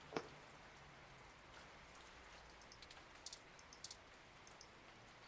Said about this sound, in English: Luckily, Turing isn't affected by rain